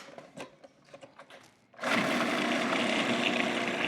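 Fresh blackberries are pureed in a blender: a few light clicks and taps, then the motor kicks on at a loud, steady whir that runs to the end without talk.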